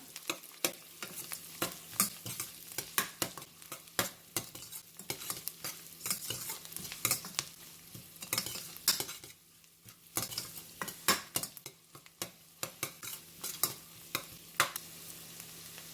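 Onions sautéing with salt in a pan, a low frying sizzle under a long run of sharp, irregular clicks and scrapes from a utensil stirring against the metal, close by.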